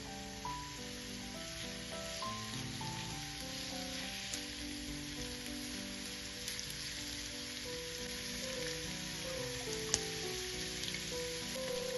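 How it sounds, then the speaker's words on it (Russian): Onion fries in a spoonful of oil in a preheated pan, a soft steady sizzle with faint crackles, heard alone under quiet background music. "В разогретую сковороду наливаю ложку масла. Первым делом отправляем на сковороду лук"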